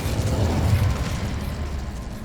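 The Incendio fire spell in Hogwarts Legacy, a loud whooshing burst of flame with a low rumbling crackle that holds steady and then fades slightly.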